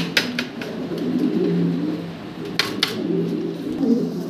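A pair of black Mundi pigeons coo in soft, repeated low rolling phrases, close by, with a few brief sharper noises and a faint background hum.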